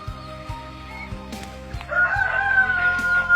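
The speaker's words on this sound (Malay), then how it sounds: "Tengok ayam." A rooster crows loudly nearby while chickens cluck, over a steady mechanical thumping in the background.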